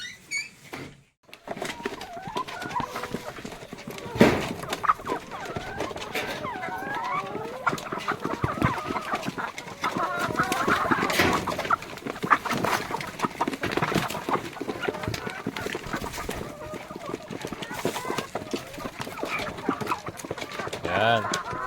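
Free-range chickens cluck and scratch about while pecking at food, with scattered taps and rustling and a person talking nearby.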